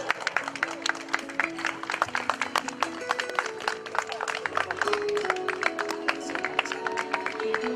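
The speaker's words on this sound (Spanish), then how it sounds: "Un aplauso, por favor." Wedding guests applaud together after a toast, a steady spread of many hands clapping with scattered sharp claps, moderately loud and continuous throughout.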